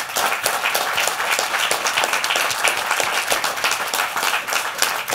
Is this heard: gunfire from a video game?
no